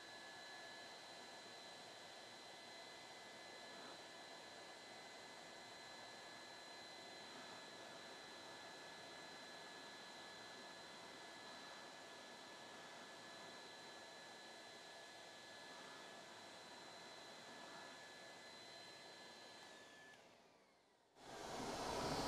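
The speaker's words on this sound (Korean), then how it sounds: "반드시 수용성을 제거하고 난 다음에는 이걸 반드시 드라이기로 말려줘야 됩니다" A hair dryer blows on a carpet to dry it after a water-soluble stain has been removed, giving a steady whirring roar with a constant high whine for about twenty seconds before it cuts off, followed by a brief louder noise.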